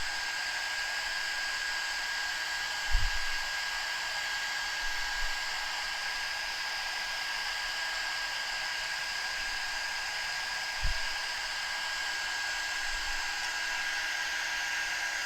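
A handheld heat tool blows continuously to heat-set ink on a transfer, giving a steady loud hair-dryer-like whoosh with a constant whine, broken only by two or three faint bumps.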